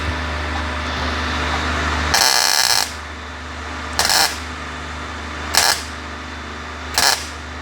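Welding around a rust repair under a vehicle's battery box: four short, harsh crackling bursts, the first longest, separated by pauses over a steady low background hum.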